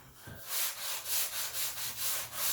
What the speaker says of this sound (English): sanding block.